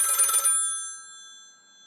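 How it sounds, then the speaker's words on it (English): A single bright telephone bell rings briefly and loud, then its metallic tone rings out and fades into silence. "her telephone ringing"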